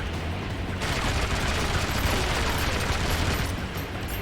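Rapid gunfire in James Bond 007: Agent Under Fire, a dense, loud burst of overlapping shots and impacts filling a few seconds, with no speech.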